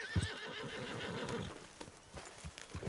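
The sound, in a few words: horse neighing in video game Red Dead Redemption 2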